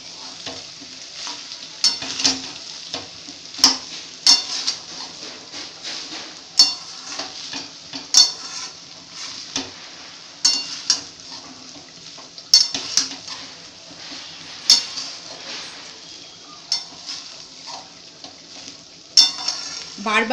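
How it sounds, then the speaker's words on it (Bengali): Fried rice being stirred in a hot frying pan: repeated scraping, clinking strokes of a utensil against the pan come every second or so over a steady, close sizzle. "বারবার কিন্তু নাড়তে হবে এই জিনিসটাকে ভালো করে যাতে ঝরঝরে হয় ফ্রাইড রাইসটা"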